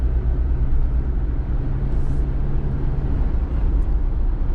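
A 2019 Jeep Wrangler Unlimited with the 2.0 turbo engine accelerates at full throttle, a steady, dense engine drone and low rumble heard from inside the cabin without pause.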